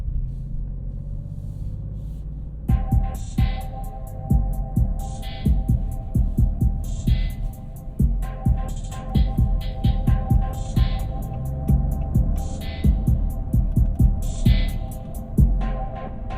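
Music plays through the Sonus Faber sound system inside a 2024 Maserati GranTurismo Modena, with a steady pulsing bass beat and crisp repeating hi-hat ticks over a low cabin hum, loud and close with no talking.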